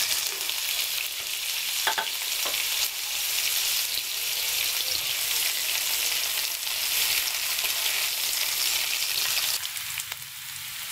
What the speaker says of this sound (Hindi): घी गर्म हो चुका है, इसके अंदर मैं प्याज डाल दूँगी।